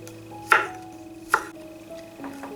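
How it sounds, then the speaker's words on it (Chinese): A knife slicing broad bean skins into thin strips on a board, two distinct chopping thuds over a quiet background with a faint steady hum. "外皮切细丝"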